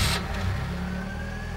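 A car pulls away from a quiet spot in a Tamil film scene, its mid-pitched engine revving briefly at the start and then settling into a steady, moderately loud drone with a faint rising whine.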